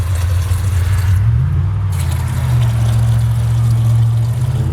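Steady traffic noise from cars driving past on a nearby road, a continuous loud low engine rumble with a smooth swell as vehicles go by, with no talking.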